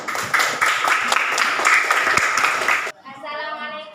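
Classroom applause for a student group, a dense steady patter of many hands lasting about three seconds, then cutting off as a voice begins speaking.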